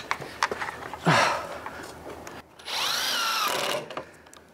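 A power drill drives a screw into wood for a DIY poolside shade structure, with short bursts, then a loud sustained whir lasting about a second before stopping, up close.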